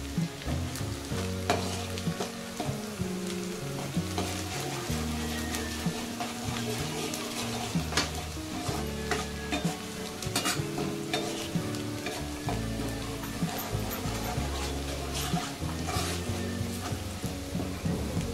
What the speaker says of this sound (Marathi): आता कांदा मस्त लाल तळल्या गेलाय लगे।